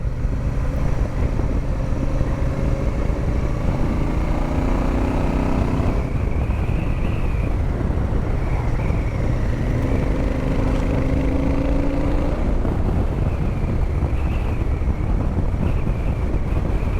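A Royal Enfield Super Meteor 650 rides along with a steady engine drone and some shifting tones, covered by heavy, continuous wind rush against the microphone, no talk throughout.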